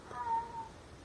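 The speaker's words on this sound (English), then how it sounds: "That's the name of my cat, Midget." A single cat meows once, a short clear mid-pitched call at moderate distance over a faint background hum.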